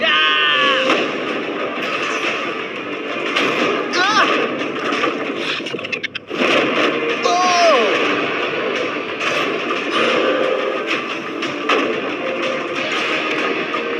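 Gunfire aimed at a shipping container, with repeated sharp reports spread over the stretch, one heavy blast near the middle, while people talk loudly throughout.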